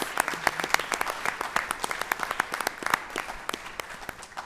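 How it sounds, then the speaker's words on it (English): Moderate applause from a school board meeting audience at SHS, individual claps distinct and irregular, fairly quiet and tapering slightly toward the end. "I just want to give them one more round of applause, one more hand here"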